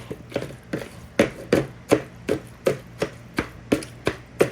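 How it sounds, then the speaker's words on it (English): Knife chopping through boiled eggs on a cutting board, a steady series of crisp, evenly spaced knocks, close and fairly loud with no talking. "I'm just gonna do a coarse chopping of the eggs."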